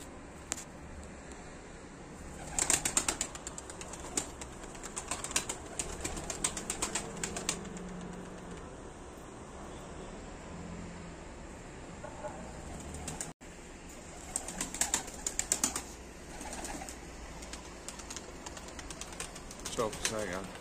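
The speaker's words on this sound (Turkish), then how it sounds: "Kuş." A pigeon nearby, with bursts of wing flapping and soft cooing over a low, steady background hum, repeated several times at irregular intervals.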